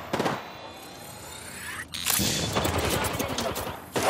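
Rapid bursts of gunfire in the Apex Legends video game, loud and dense, with a brief lull before sustained shooting resumes and continues to the end.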